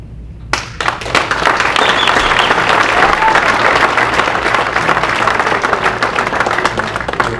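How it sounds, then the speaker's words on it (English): Audience applause breaks out at a mayoral debate about sewer issues, a dense, sustained wash of many hands clapping that starts abruptly and holds steady, loud and close, for several seconds. "The Nexon supporters would please hold off on the clapping"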